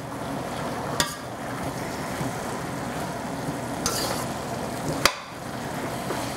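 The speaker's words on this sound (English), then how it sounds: "Give it a good stir." Stir-fried gai lan with cornstarch stirred in a hot pan, a steady soft sizzle with a few sharp spatula knocks against the metal, close and unbroken.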